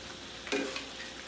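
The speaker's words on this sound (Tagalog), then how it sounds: "Medyo lulutuin muna natin tong carrots at saka beans bago natin ilalagay yung repolyo." Carrots and beans stir-fried in a pan for chop suey give a short, close burst of sizzle and scraping that rises sharply and fades within about a second.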